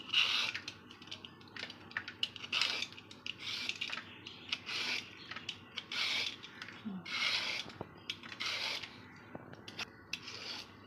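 Skin being peeled off a ridge gourd: about a dozen short, rasping scrapes close by in an irregular rhythm, with quiet background between strokes.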